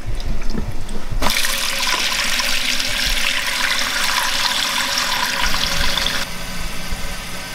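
A toilet refilling after a repair: steady rushing water into the tank with a louder hissing fill that starts abruptly and runs for several seconds before easing, close by and alone.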